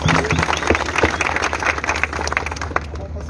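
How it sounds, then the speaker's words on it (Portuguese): Applause for a capoeira group at an outdoor roda in Brasília, loud crowd clapping with sharp individual claps close by, rolling on for a few seconds before tapering. "Só de palmas pra essa galera aqui."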